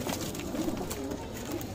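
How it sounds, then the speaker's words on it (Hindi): Madrasi and Punjabi flying pigeons cooing softly in a loft, with low steady coos and a faint background murmur. "सारे अच्छे बढ़िया उड़ान के कबूतर हैं"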